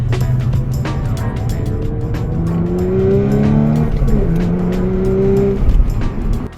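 Audi S4 exhaust with the resonator deleted, a loud, steady engine drone whose rising harmonic tones climb as revs build, then dip and climb again, with no talk over it.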